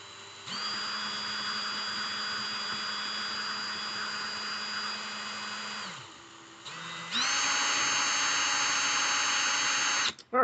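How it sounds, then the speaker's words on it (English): A power drill spins to wrap fuse wire into a coil: a steady high mechanical whine runs for several seconds, stops briefly, then returns louder and higher-pitched at a faster speed before cutting off. "Turn my drill up a little bit. The faster you go with your fuse, the tighter your wrap's going to be"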